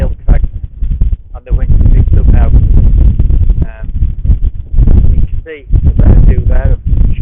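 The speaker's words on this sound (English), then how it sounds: "From the summit of Vanadale Crags, and the wind picked up now" Strong wind buffeting the microphone on the summit of Vanadale Crags in the Lake District fells, loud, low rumbling gusts that are nearly constant, with someone talking over it.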